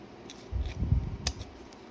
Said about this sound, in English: I shouldn't be using such big scissors